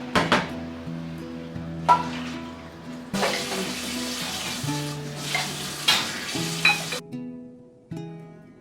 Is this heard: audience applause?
no